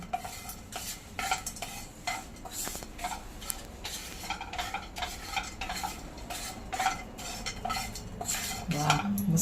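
Whole spices and mace being dry-roasted in a pan for Maharashtrian goda masala, a spoon scraping and stirring in repeated strokes with light rattling of spices against the metal, close and fairly quiet, no talk.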